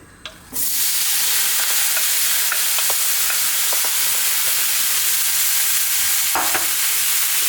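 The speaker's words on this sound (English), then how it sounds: "We're going to keep stirring this around on a very high heat to 5 to 6 minutes" Eggplant mixture for an Indian brinjal fry hitting a very hot pan with a sudden loud burst into a dense, steady sizzle, then occasional clicks of stirring, no voices.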